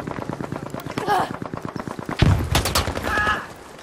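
Bursts of gunfire in Battlefield V on PS4, rapid cracks mixed with game noise, a sharp loud shot near the middle, with someone talking over it.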